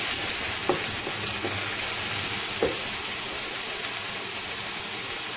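Beef meatballs browning in a frying pan for a calzone filling, giving a dense, even, loud sizzle throughout with a few faint clicks of the pan or utensil.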